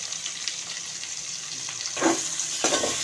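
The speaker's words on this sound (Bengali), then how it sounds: "প্রথমে পেঁয়াজটা ভেজে নিচ্ছি" Chopped onions fry in a pan with salt and turmeric for chicken biryani, giving a steady close sizzle with a few stirring scrapes toward the end.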